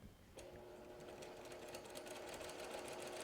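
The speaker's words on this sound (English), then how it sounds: "Just give it a quick backstitch." Sewing machine stitching a quick backstitch on a log cabin quilt block, a steady close motor whir with rapid needle clatter that starts abruptly and runs continuously.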